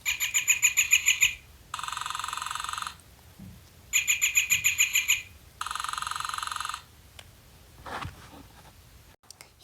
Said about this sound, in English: now I'm going to show you my new Baltimore Oriole